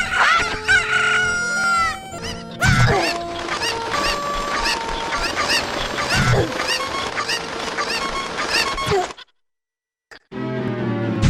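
Chickens cluck busily while a rooster crows loudly several times, with other farmyard animal calls mixed in; the sound cuts out briefly near the end.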